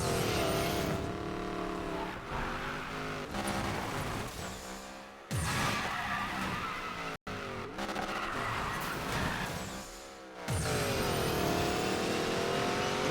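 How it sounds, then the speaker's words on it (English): Race car engine in Need for Speed: Payback revs hard and continuously with tire squeal and skidding, loud and close, dropping briefly twice between sustained bursts of acceleration. "This car is so quick, you barely get to even exhaust all of your boost."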